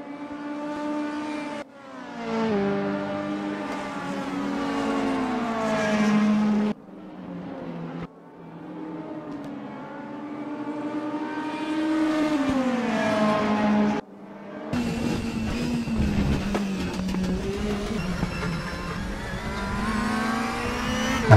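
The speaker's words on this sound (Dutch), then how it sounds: "In de auto van Esteban Ocon." DTM 2016 race cars lapping the Red Bull Ring in RaceRoom, loud onboard engine howling through rising revs and sharp gear changes, with brief cuts between camera views and a rougher engine tone late on.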